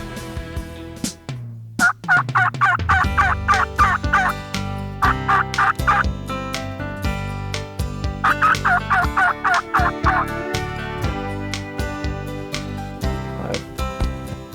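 A wild turkey gobbles loudly in several rattling bursts, close and clear, with repeated calls rolling across the open air.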